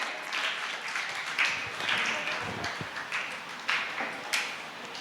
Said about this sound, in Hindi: ज़ोरदार तालियों के साथ में मैं उनका स्वागत करूँगी कि वे आएँ